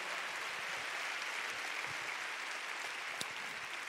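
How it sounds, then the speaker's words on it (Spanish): Dense, steady applause from a church congregation at a Spanish-language service, a continuous wash of many hands clapping together at moderate level with no talk over it. "Dale un fuerte aplauso a la palabra del Señor."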